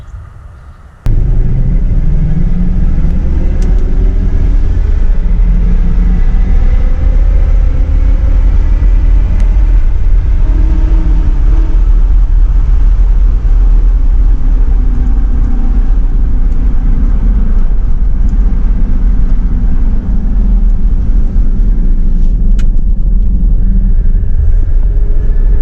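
A 2007 Ford Expedition EL with a faulty rear differential drives along, giving off a loud, continuous low rumble and drone that runs steady for the whole stretch after a short quieter start, with no speech over it.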